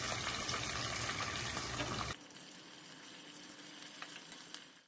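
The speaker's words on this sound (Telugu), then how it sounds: "ఒక ఉల్లిపాయి చిన్న ముక్కలు కోసుకుని వేసుకోవాలి" Chopped onion with tempering spices sizzles in hot oil for a hotel-style meal maker cauliflower curry: a dense, steady frying hiss for about two seconds, then a softer, quieter sizzle that continues alone.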